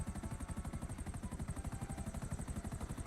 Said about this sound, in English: It is the fastest helicopter in the game.